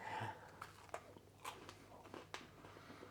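A crisp Sicilian almond cookie, crunchy outside and soft inside, bitten and chewed in a few quiet, close crunches with short pauses between them.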